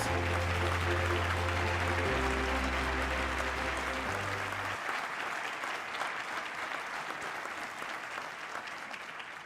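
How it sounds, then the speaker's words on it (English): Audience applauding Teachers of the Year at the 2023 Celebration of Excellence, a broad sustained wash of clapping from a large crowd, at first under low music tones that drop away, then fading gradually. "Please give these Teachers of the Year a big round of applause."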